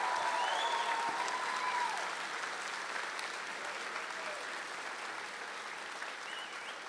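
A commencement audience applauds an American Legion honor guard with dense, steady clapping that fades slightly toward the end.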